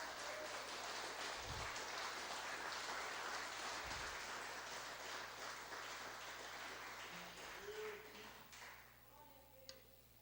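A church congregation claps at a worship service on a fasting day, sustained broadband applause that fills most of the stretch before fading toward the end, with a few low thumps near the start.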